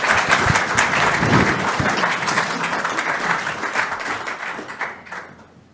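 An audience applauds a speaker at a lecture, with dense, sustained clapping from a crowd that holds steady for several seconds and then tapers off at the end.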